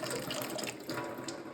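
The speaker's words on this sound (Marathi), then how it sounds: "हा फ्रेश पाण्याचा नळ आहे आणि हे वरचं टाकीच आहे" Milky white water runs from a municipal tap in Kolhapur, a steady close gushing splash that pours without pause for the whole moment.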